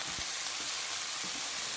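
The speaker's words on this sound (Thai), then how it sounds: "เติมน้ำเปล่าลงไปเล็กน้อยนะครับ ให้คุกคิกคุกคิกหน่อยครับ" Thai curry paste cooking in a pan with a little water added, giving a steady, dense bubbling sizzle and hiss close up, continuous with no voices.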